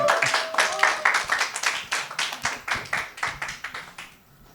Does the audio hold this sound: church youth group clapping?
yes